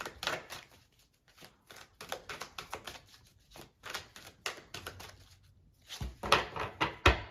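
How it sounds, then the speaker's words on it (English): Tarot cards are shuffled in quick, crisp bursts of riffling and slapping, close by and fairly quiet, with brief pauses and a louder flurry at the end. "I'm going to just keep shuffling."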